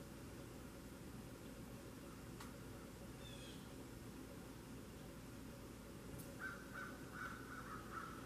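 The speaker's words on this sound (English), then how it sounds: "Them damn crows." Outdoor crows cawing, a few distant calls rising over a steady wash of background noise, with a short run of caws near the end.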